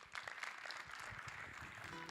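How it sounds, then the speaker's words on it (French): Brief applause from an audience at a climate change adaptation awards ceremony, a soft, fairly distant wash of clapping held evenly for a couple of seconds. "on vous applaudit"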